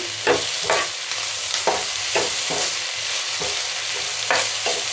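Thinly sliced green chillies stirred and frying in a pan, a steady sizzle broken by repeated scraping strokes of a spoon at a regular rhythm, close and fairly loud with no voices.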